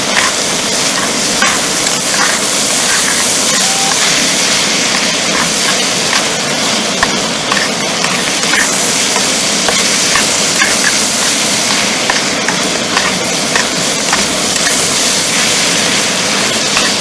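Sausage sizzling and frying in a pan on a Soto Windmaster camp stove for a bushcraft breakfast, a steady close crackle with occasional scrapes of stirring, continuous and alone throughout.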